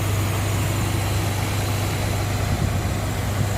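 A manual 1996 Honda Civic Ferio engine runs steadily with a deep, even drone, held at a constant level throughout with no clear rise or fall in pitch and no talking.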